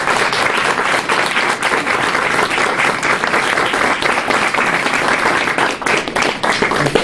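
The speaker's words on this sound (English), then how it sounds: "Let's give him a round of applause." A classroom audience applauds a student presentation, a dense, even round of clapping that holds steady for around seven seconds with no talking over it.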